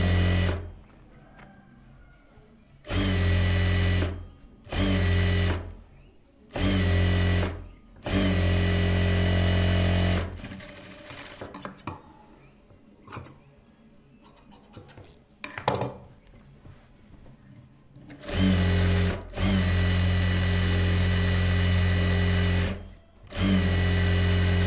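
A sewing machine stitches a blouse, running in repeated bursts of steady whirring with short pauses between, then a longer quiet stretch of fabric handling before more runs.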